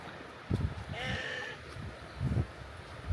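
A single sheep bleats once, a wavering cry at moderate distance, amid soft footsteps and scuffling sounds.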